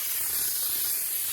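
A short, steady hiss of Kleen-Flo Black dashboard cleaner sprayed from a can, close and continuous for just over a second.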